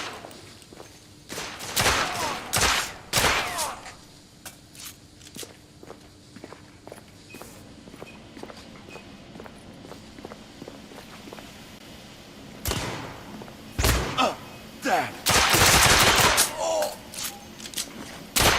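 Gunfire in the video game The Order: 1886, clusters of loud sharp shots and bursts early and near the end, with quieter scattered cracks and movement in between.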